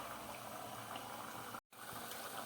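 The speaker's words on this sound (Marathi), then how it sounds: "आमटीला चांगली उकळी आलेली आहे" A pot of amti, a lentil curry with soya chunks, bubbles at a steady rolling boil, a soft continuous burble close by, cut off by a brief dropout midway.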